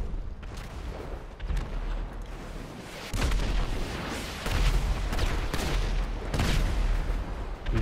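Tank cannon fire and explosions in Grand Theft Auto V: repeated heavy booms landing about every second or so over a constant rumbling battle din, loud and close.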